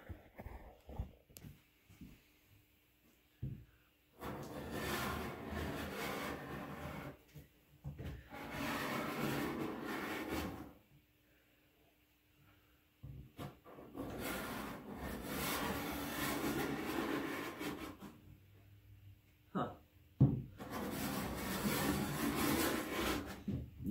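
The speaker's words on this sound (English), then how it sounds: "So we're now ready to scrape it off." Scraper rasping across softened paint remover on a wooden kitchen table, with four long stretches of steady scraping separated by quiet gaps and a few small knocks, moderately close and without speech.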